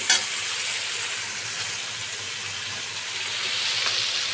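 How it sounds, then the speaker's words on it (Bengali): Potatoes frying with turmeric and other spices in a pan for a fish-head cabbage dish, a steady close sizzle with scraping from stirring, and no one talking. "ভালো করে আমি এবার সব মশলাগুলো মিশিয়ে নিচ্ছি।"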